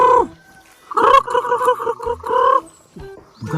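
A chicken clucks loudly and close by in a rapid, stuttering run of calls with short pauses between them, and a voice is briefly heard at the end.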